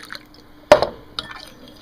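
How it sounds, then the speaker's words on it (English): Cold water poured and stirred into beaten egg yolk in a bowl, one sharp close splash followed by a smaller drip and a soft later plop, with no talking. "Then you want to stir in that cold water."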